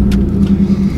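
The engine of a 1985 Pontiac Trans Am idles close and loud with a deep, steady burbling rumble and slight pulsing, no voices.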